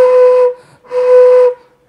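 A beginner's flute gives two breathy, unsteady tones from imperfect lip position, a short note then a longer one, loud and close with a brief pause between.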